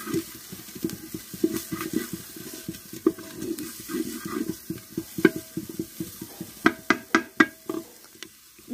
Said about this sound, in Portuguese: já deu uma boa dourada na cebola e no alho